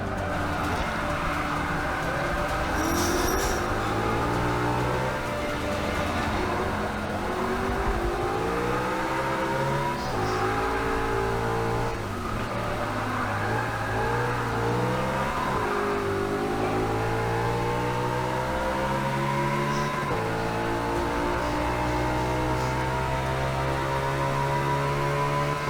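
A Ferrari FF from the Forza Motorsport 6 racing game laps the Daytona circuit, its engine droning steadily and rising and falling in pitch through repeated gear changes and revs for the whole stretch.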